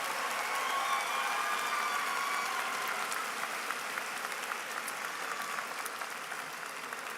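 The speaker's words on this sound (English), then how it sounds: "Let's applaud our master's graduates." A large commencement audience applauds master's graduates at a spring ceremony: sustained, even clapping from many hands, heard at a distance and fairly quiet, with no speech over it.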